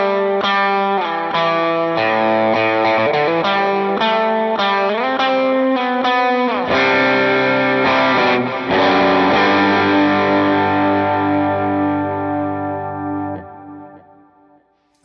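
Electric guitar lead tone through an HX Stomp dual-amp setup, a sustained, distorted run of single notes and bends with chorus and echo, loud and continuous for about thirteen seconds before ringing out alone.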